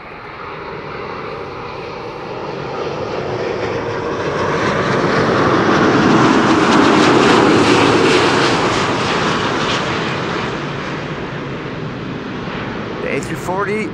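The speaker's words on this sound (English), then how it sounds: "Delta Airlines Flight 56, arriving from Salt Lake City," A Delta Airbus A330neo airliner arriving from Salt Lake City sweeps past on landing with a loud, steady engine roar and wind rush that builds and eases, while a voice talks over the tail end.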